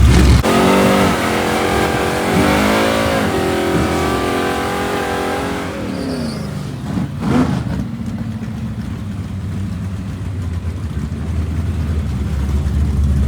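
A drag race car with an LS3-based 416 engine making a pass at a time-trial event, its engine roaring loud and close through the launch and run, then fading into the distance.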